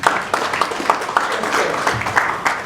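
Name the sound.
audience applause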